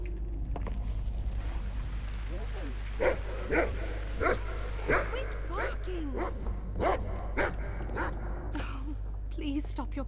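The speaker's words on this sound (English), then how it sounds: "Quit barking!" A dog barks repeatedly in a regular series of sharp barks at moderate distance over a steady low hum, with voices occasionally heard.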